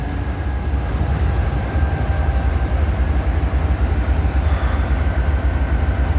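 A BNSF freight train, an intermodal pig train, rolls through Abbeville, South Carolina, with a loud continuous low rumble and steady wheel noise, close by and unbroken throughout, no voices.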